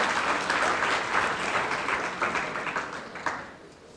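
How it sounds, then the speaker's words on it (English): A university audience applauds at a speech on Pakistan–Turkey ties, loud sustained clapping from a full room that gradually thins and fades toward the end. "You can clap yourself, yes,"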